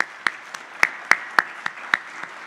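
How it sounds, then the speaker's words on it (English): Scattered hand claps from a summit audience thanking Adib Farhadi, a sparse handful of distinct claps spaced irregularly over a low background hum, fairly quiet and without a full sustained ovation. "Let's give him a round of applause."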